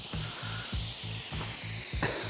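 Fine mist spraying steadily from a sprinkler head while a lawn irrigation system is winterized, a constant close hiss overlaid with a regular low pulsing thump repeating about twice a second.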